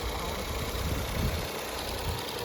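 A Ford 2-liter EcoBoost turbocharged four-cylinder engine idles steadily and close by, a continuous low mechanical hum with slight vibration and no voices.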